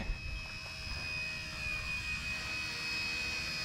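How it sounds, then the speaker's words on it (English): A small XK AS350 RC helicopter's motor, running on a 1S battery, whines steadily at a high pitch, with a faint airy rush beneath it, continuous and fairly close throughout. "This is an awesome little helicopter"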